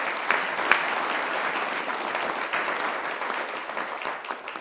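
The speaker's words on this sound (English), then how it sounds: "Let's please give those folks a round of applause as well." An audience at a Sioux Falls city council meeting applauds steadily, a dense patter of many hands clapping indoors that holds at an even level throughout, with no talking.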